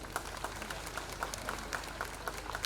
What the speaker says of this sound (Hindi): एक जोरदार ताली इस परिवार के लिए हो जाए